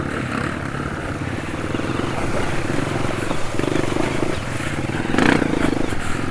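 Dirt bike riding in the morning, with a steady engine drone close by and occasional revving and clattering swells, loud throughout.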